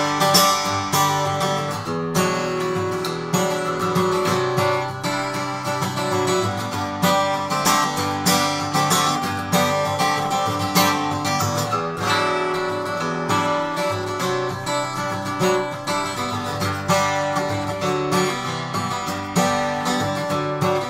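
A Martin HD-28 acoustic guitar with herringbone trim and a faux tortoiseshell pickguard rings out in continuous strummed chords, full and close, with no talking over the playing.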